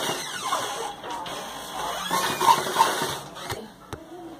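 A sewing machine runs stitches over a patch on a designer blouse, whirring steadily at close range, with a few louder clicks and squeaks where the needle and fabric are handled.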